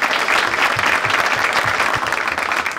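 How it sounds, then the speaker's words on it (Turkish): A crowd claps steadily and densely for a few seconds, loud and sustained without pause. "Dahi bir alkışlayalım arkadaşlar."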